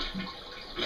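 A household toilet flushes in a house bathroom, giving a close, steady rush of running water that holds at an even level with no voices.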